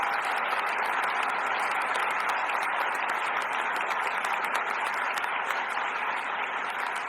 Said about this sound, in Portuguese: A gente poderia dar uma salva de palmas para a Igreja Central?